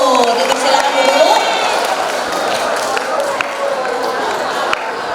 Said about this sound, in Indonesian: Sekali lagi berikan tepuk tangan yang meriah untuk pasangan kandidat nomor 1